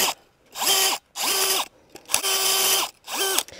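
A 20-volt cordless drill fitted with an auger runs in four loud bursts, each one whining up to speed, holding, then winding down, with short silent gaps between them.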